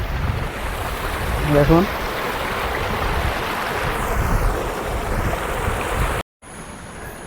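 Water rushes down a small mini waterfall along a jungle stream, a continuous broadband wash close to the microphone with wind buffeting, brief speech over it and a short dropout near the end.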